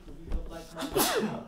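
A single sharp sneeze from someone at an online Bible study, a brief burst that rises over someone talking steadily.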